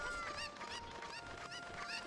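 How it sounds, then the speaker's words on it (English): Cucco chicken calls from the video game Ocarina of Time: a string of loud, bright squawking clucks repeating close up over steady game background music. "Chicken."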